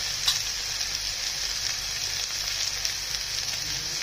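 Dry spices including turmeric and coriander powder sauté in hot oil in a pan for a village-style ridge gourd curry, giving a steady, close hiss of sizzling with no talking.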